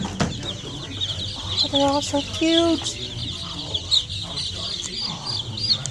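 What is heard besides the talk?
baby chickens clucking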